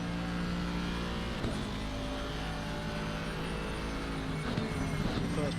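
A GT race car in Assetto Corsa Competizione laps Suzuka circuit with an on-board engine drone that stays steady and sustained through the run, a couple of faint gear or bump transients breaking the tone, no talk present.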